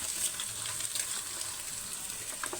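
Chicken noodle ingredients and egg stirred together in a hot frying pan, giving a steady close sizzle and frying hiss with faint scraping of the stirring, no voices.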